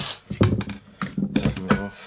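Scrapping a desk fan: a few quick clicks and plastic clunks come from unscrewing screws and handling the fan housing, irregular and close, with short pauses between bursts and no talking.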